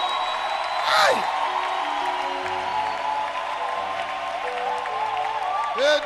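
A church congregation applauding and cheering, a steady bed of clapping with occasional shouts and whoops rising over it, while a voice speaks and a sustained musical tone runs underneath.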